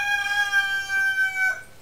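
A neighbor's backyard chicken crows once, a long, clear, sustained call with strong harmonics, heard close and alone over a faint low background.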